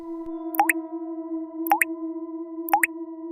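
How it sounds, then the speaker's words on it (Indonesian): Water drips inside a quiet bedroom at night, three distinct plopping drops falling about a second apart, each a crisp close tap with a ringing tail, over a steady low hum. "tiba-tiba dia dengar suara tetesan air di dalam kamarnya"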